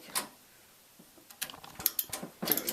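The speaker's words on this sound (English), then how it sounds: "Just tighten it down, for Christ's sake." A screw is tightened down while a computer is being built with an SSD and motherboard. Close, quiet mechanical clicks and ratcheting ticks come in short irregular bursts, with no talking.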